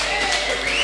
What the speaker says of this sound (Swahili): Si mungempigia Yesu makofi sasa?